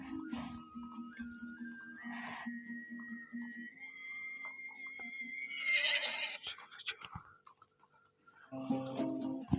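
A horse neighs in a long drawn-out whinny over steady rhythmic clip-clopping hooves, close and fairly loud, followed by a sharp burst of noise and further movement sounds.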